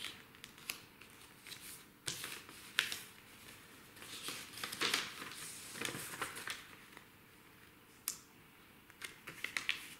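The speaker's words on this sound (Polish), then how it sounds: "Musimy złożyć porządnie, zagiąć" A square sheet of paper being folded and creased along its diagonals and axes to make a paper Christmas bauble. Soft, close crinkles and sharp little snaps come in irregular bursts, with no talking.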